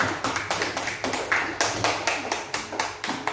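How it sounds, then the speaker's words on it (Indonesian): A classroom of students claps for classmates who answered, a steady run of brisk, fairly loud hand claps in an even rhythm, with no talking over it. "Kasih aplaus buat kawan-kawan yang menjawab."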